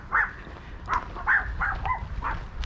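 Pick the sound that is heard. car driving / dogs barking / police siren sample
dogs barking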